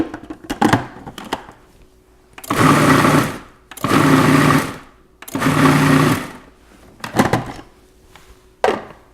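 A food processor blends salsa with half a Persian lime, running in three loud, even whirring bursts of a second or so each, separated by short pauses, with clattering handling noises before and after.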